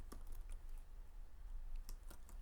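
Soft, quiet clicks of code being typed on a computer keyboard, scattered irregular keystrokes over a low hum.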